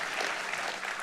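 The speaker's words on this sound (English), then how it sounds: "They deserve applause too." Audience applause at the 2018 Dan David Prize award ceremony, a steady, dense wash of clapping from a large crowd that holds evenly for the full second with no voices over it.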